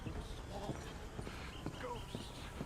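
Horse hooves clip-clopping at a walk in the video game Red Dead Redemption 2, a light, uneven patter heard beneath someone talking.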